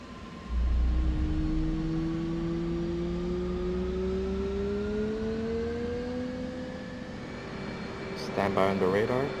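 An F/A-18 jet engine in the DCS flight simulator spools up, a steady rising whine climbing in pitch over a low rumble, with a cockpit voice talking over it and a burst of chatter near the end.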